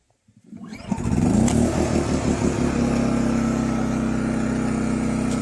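Champion 2500-watt dual fuel inverter generator, set on choke, starting after a few quick pulls and settling into a loud, steady, close running drone.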